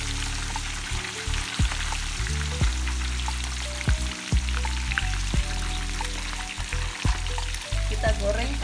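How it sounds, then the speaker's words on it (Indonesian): Red tilapia fish frying in hot oil over a high flame gives a steady, crackling sizzle that continues throughout, with a tonal background sound running underneath. "Setelah minyaknya panas, baru deh ikannya kita masukin."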